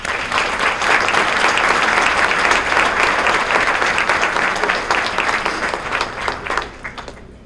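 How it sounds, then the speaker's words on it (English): Sustained, loud applause from the audience at a Metro South Chamber of Commerce annual meeting, a dense wash of many clapping hands that holds steady before thinning and fading out near the end. "Please give me a round of applause."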